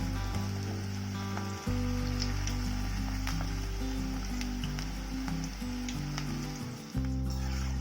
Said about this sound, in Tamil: எண்ணெய் காஞ்சிருச்சு. நம்ம ஓட்ஸ் பக்கோடா போட்டு எடுத்துக்கலாம்.